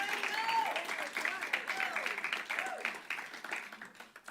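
Applause from a church congregation, a steady wash of many hands clapping for several seconds, with some voices mixed in.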